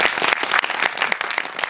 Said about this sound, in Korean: 배우님들께 박수 한번 같이 보내드립니다.